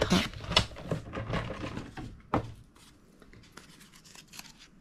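Scissors cutting paper for a gingerbread house explosion box, a close series of crisp snips and rustles, busy at first, then a sharp cut and quieter trailing sounds.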